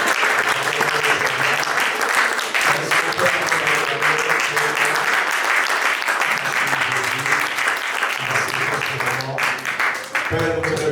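A church congregation applauds, a dense, sustained wash of clapping from many hands that fills the space steadily for several seconds, with voices cheering faintly beneath it.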